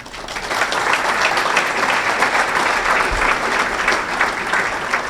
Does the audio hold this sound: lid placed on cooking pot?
no